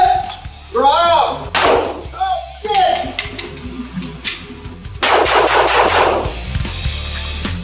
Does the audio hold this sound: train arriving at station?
no